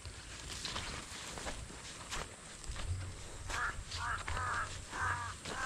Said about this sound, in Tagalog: Daming uwak.